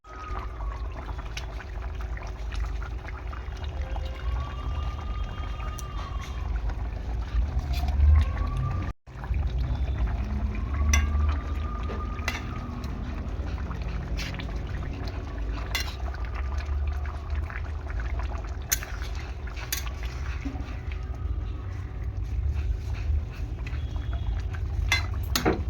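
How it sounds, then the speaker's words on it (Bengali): Fried rohu fish pieces go into a pan of simmering capsicum curry with cashews, giving a steady close bubbling and soft liquid sizzle that runs continuously, with a brief break partway through. "সেই জন্য ভেজে রাখা মাছগুলো দিয়ে দিচ্ছি।"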